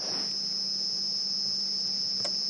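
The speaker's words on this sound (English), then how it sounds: "we can hear some very late cicadas" Late cicadas call at dusk on a live safari drive, a steady, unbroken high-pitched buzzing drone with no speech over it.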